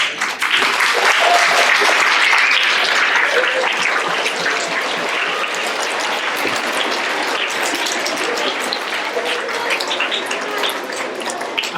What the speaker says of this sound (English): we will give our third place winners a round of applause